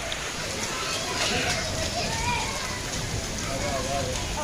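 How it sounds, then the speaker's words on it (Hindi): Heavy rain pours down outdoors near grapevines, a dense, loud, constant hiss with a voice faintly mixed in. "आपको बारिश का शोर भी सुनाई दे रहा होगा, काफ़ी ज़्यादा तेज़ बारिश लगी हुई है।"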